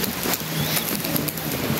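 Rain falls steadily on a covered, sheltered area, giving a dense continuous patter with a constant hiss and no speech.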